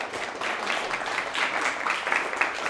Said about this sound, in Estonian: Teeme aplausi ära.